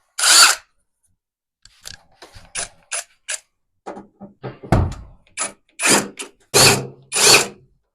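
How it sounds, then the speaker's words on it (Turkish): Power screwdriver backing out the cover screws on a combi boiler during servicing, heard as a string of short, close whirring bursts with brief pauses between them, one screw after another, with no talk. "vidalarımızı sırayla söküyoruz."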